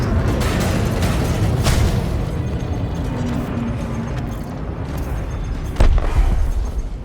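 Spaceship exploding as a target is destroyed in Elite Dangerous, a loud rolling boom with rumbling crackle that fades over several seconds, followed by a fresh sharp blast near the end.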